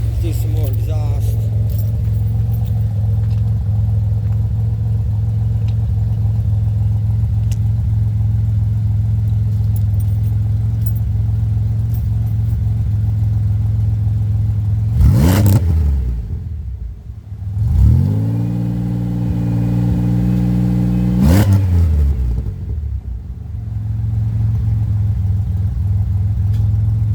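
A 2007 Pontiac Grand Prix GT with a cam holds a steady, rumbling exhaust idle, then is revved twice in sharp bursts that rise and fall back to idle, loud and close.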